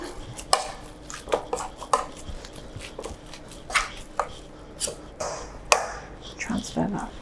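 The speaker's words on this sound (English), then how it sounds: "Mix that all in." Anchovy mash being mixed in a bowl gives a series of irregular scraping clatters and utensil knocks against the dish, fairly close, with soft background noise between strokes.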